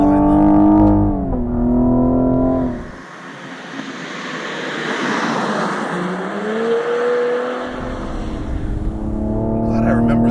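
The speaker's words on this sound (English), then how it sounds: "It does do a nice little crack when you upshift at the red line" A Cadillac CT5-V in full race mode revs hard toward redline, then the exhaust cracks sharply on the upshift before the engine pulls again, loud and close, with someone talking over it.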